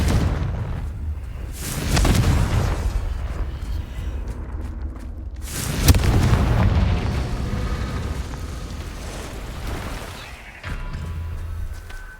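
Confringo fire spell blasts in the Hogwarts Legacy video game, two loud booming bursts a few seconds apart with rumbling tails, followed by a lower sustained rumble, no voice.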